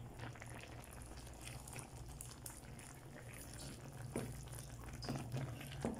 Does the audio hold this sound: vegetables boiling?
yes